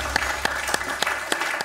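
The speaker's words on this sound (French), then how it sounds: "Applaudi par Benoît très sportivement" Studio audience applause at the finale of a French television quiz show, a steady clapping wash punctuated by a few sharp, louder claps at regular intervals, heard without speech.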